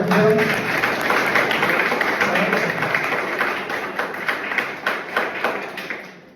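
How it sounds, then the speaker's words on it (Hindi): Audience at a college lecture clapping loudly, a dense burst of applause that gradually thins into separate, distinct claps as it fades toward the end. "ताली बजाओ जोर से।"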